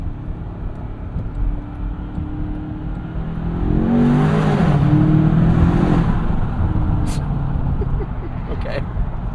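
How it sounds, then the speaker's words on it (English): Twin-turbo V8 of a 2026 Land Rover Defender Octa building boost during a morning commute, a steady cabin engine drone that swells into a whooshing turbo rise midway, then settles, with a faint click near the end. "Boost noise."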